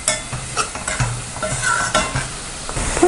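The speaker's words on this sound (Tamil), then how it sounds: "இப்போது கருவேப்பிலை, பச்சை மிளகாய் இதையும் நம்ம ஆட் பண்ணிவிட்டு நல்லா வதக்கிக்கோங்க" Onion, fennel, curry leaves and green chillies stirred and sautéed in a pan, a steady soft sizzle with repeated scraping strokes of the spoon, close and alone.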